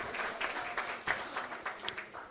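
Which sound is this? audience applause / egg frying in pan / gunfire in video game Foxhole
audience applause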